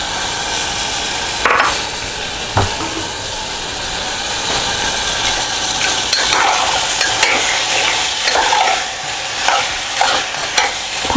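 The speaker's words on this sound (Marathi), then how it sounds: "आता हे बटाटे मी याच्यात घालते." Potatoes tipped into a hot, sizzling pan of Mumbai rassa curry and stirred, a loud steady hiss and fry with scraping spoon strokes and occasional knocks, close up with no talking.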